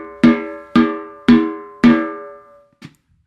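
Four evenly spaced, ringing taps on a shallow snare drum head, each with a bright metallic sustain that decays before the next, followed by a softer fifth tap; close and clear with no talking.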